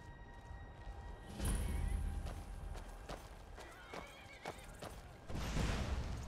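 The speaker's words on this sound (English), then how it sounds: "my horse is over there, actually being useful" A horse in the video game Skyrim whinnies loudly twice, at the start and again near the end, with clip-clopping hooves in between, heard over continuous ambient game sound.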